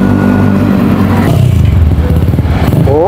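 A motorcycle engine drones loud and close beside a mountain bike race on an open road, its throbbing pulse rising and wavering as it revs, with wind buffeting and no voices.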